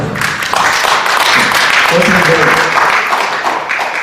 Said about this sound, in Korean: 자, 박수 한번 더 치시고